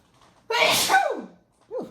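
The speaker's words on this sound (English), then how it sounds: "I think I do got to sneeze." A single loud, close sneeze bursts out after a brief quiet, followed by a short voiced exhale.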